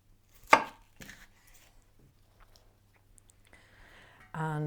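A knife slices asparagus on a board with one sharp, loud cut followed by a few quieter ones, then mostly quiet before a voice starts talking at the end.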